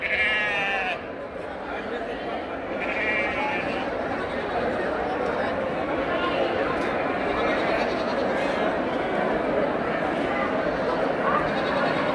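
Sheep bleat repeatedly, near and far, at a large, busy livestock market in Devadurga, with a dense crowd chatter and talk running throughout.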